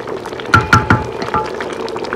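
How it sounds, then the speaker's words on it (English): Red palm oil is poured into a pot of simmering Igbo bitter leaf soup (ofe onugbu), giving a few close, quick splashes over a soft bubbling background. "I will add my red oil now."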